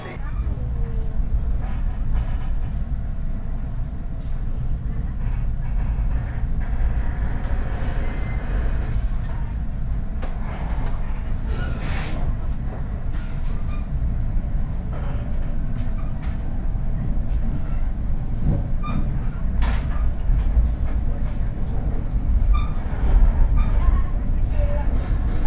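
An Argo Cirebon passenger train rolls along, a continuous low rumble of wheels and carriage noise with occasional rattles and brief squeals, steady throughout.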